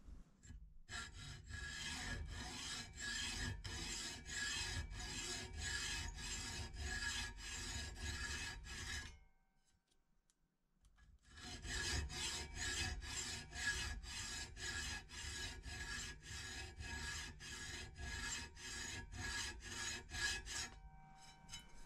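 A saw blade scribes a cut line into wood with quick, regular back-and-forth rasping strokes, close and steady, pausing briefly midway before the rhythmic strokes resume; no talking.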